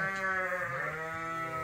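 A ewe bleats loudly and steadily while wedged in the bars of a farm coop, one drawn-out harmonic cry filling the moment with no talk.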